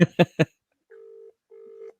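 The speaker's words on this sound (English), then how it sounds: "I'm ringing him again. Let's see if he answers." A telephone call ringing out: a few short bursts of voice first, then two steady electronic ring tones separated by a brief silence, clean and close.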